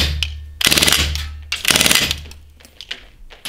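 An Umarex M3 Grease Gun 4.5mm blowback BB gun fires two loud full-auto bursts, rapid mechanical rattling each lasting about half a second to a second, followed by a few quieter clicks.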